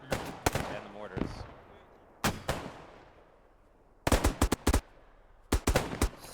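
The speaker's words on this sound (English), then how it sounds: "And the mortars." Video game firefight on a mountain ridge with mortar fire and gunfire: sharp clustered bursts of shots in several volleys, loud and close, separated by quieter gaps with decaying echoes.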